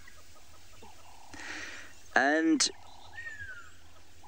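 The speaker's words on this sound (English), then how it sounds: "You can hear a pearl-spotted owl there." A pearl-spotted owl calls at sunrise on a safari in Tswalu, a short rising series of whistled notes, fairly clear over a steady background hiss, with someone talking nearby.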